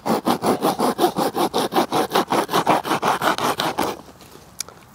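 Steady back-and-forth strokes of a folding hand saw biting through fairly rotten oak wood, about five per second, loud and close, then stopping abruptly with a couple of faint clicks.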